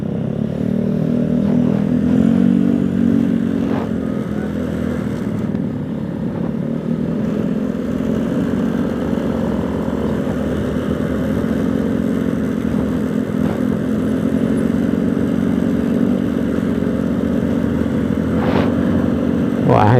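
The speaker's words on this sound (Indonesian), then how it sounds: "Wah ini di belakang Mio berisik sekali nih. Knalpotnya brong teman-teman." Yamaha Mio motorcycle with a loud open exhaust, droning steadily and continuously from close by over a constant road and wind rush for the whole stretch, with a mountain route setting and no break in the engine note.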